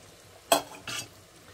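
Onions and soup simmer in a pan while a utensil stirs them, two short scraping swishes over a quiet low bubbling, close and fairly soft, with no voices.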